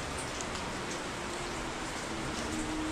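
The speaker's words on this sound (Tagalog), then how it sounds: "walang tigil ang ulan." Steady, continuous rain that has fallen since the previous night, a dense even patter with faint ticking drops, with no voices.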